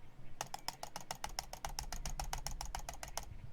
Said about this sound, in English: That's me clicking my mouse over and over.